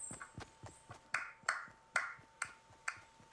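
Sharp, clean claps from a clapping emote in the Fortnite battle royale video game, about a dozen crisp hits in an uneven rhythm, close and fairly quiet with nothing else behind them.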